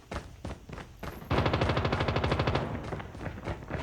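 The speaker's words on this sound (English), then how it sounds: "Took me like 10 shots to kill that one." Rapid gunfire from a shooter video game during a pistol-only challenge, a few separate shots followed by a long fast burst of evenly spaced, loud, close reports that taper off near the end.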